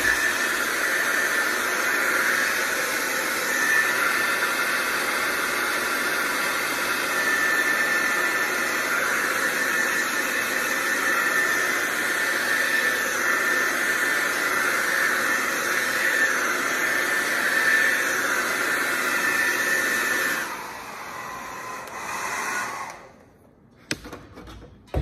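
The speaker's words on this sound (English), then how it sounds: "Let's take the hair dryer, and if this would be a good time to pause and start to dry everybody's canvases" A hair dryer blows steadily for about twenty seconds while drying painted canvases, a loud even whoosh that drops away near the end as it switches off.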